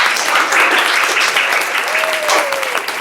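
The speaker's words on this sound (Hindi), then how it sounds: "एक बार जोरदार तालियां हो जाए मेरे लिए" A studio audience at the start of a Hindi comedy show bursts into loud, dense applause, many hands clapping steadily with faint voices and a cheer or whistle rising within it.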